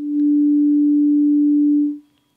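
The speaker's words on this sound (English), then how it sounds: "we should have a clean sine wave" A clean, steady sine tone from an Intellijel Shapeshifter synthesizer oscillator, holding a single pitch for about two seconds before cutting off.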